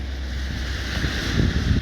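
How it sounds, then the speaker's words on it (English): Fast, deep floodwater of the River Don in Sheffield rushing as a steady broadband roar, with low rumble and wind buffeting the microphone; no voices. "But this water here, extremely fast, very deep"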